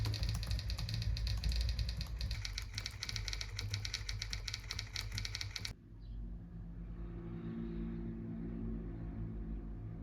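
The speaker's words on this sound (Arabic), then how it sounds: "هنقعد دلوقتي ساعه بنكتب على الكيبورد بس" Dense, rapid clatter of keys on a computer keyboard during an hour-long typing session, loud and continuous for about six seconds, then cutting off to a quieter steady hum.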